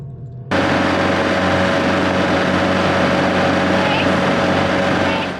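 A steady, loud engine drone runs throughout after a brief quiet start, a continuous mechanical hum of a narrowboat's engine heard close by at the back of the boat on the Great River Ouse.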